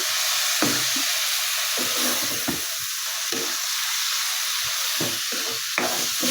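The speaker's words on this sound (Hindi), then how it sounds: "तो अब मैं इसमें थोड़ा सा भून के" Spice mixture roasting in oil for Kashmiri kadhi with fig, a loud steady frying hiss broken by intermittent scraping stirs of a spoon in the pan, close up with no voices.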